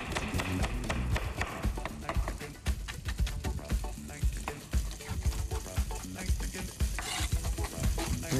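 Sliced peppers dropped into hot oil in a pan, frying with a loud, dense, continuous sizzle and crackle that is stirred and scraped throughout.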